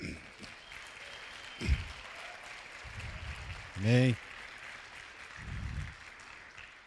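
A church congregation applauds the Lord, soft steady clapping spread across the room at a distance, with a voice calling out briefly in the middle and low murmurs around it.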